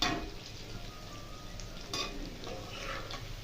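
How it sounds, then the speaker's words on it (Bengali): Chicken pakoras deep-frying in oil and being turned, heard as a faint, even bubbling sizzle with light utensil clinks against the pan, close but quiet and free of speech. "এভাবে আমি উল্টিয়ে পাল্টিয়ে পকোড়াগুলো লাল লাল করে ভেজে নিচ্ছি।"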